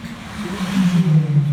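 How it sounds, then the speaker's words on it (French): A motorcycle on a nearby road beside a muddy path gives a short, rising engine drone that swells and holds, fairly loud and close, with no talk. "C'est un bruit de moto, hein."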